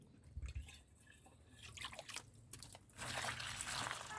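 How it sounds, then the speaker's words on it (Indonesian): Water being poured over a plant tuber, heard as a soft, continuous trickle and drip that builds louder toward the end, with no voices. "kita siram air lagi"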